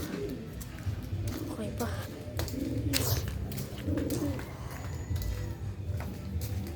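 Pigeons coo nearby in soft, repeated throaty bursts while someone talks over them in Filipino, with a few faint knocks in the background.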